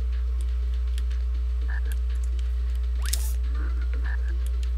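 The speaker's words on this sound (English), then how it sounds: "Yeah, take care of that frog." Frog croaking in The Flintstones SNES video game, a few short cartoonish croaks over a steady low game hum and background music, with a quick rising sweep near the middle.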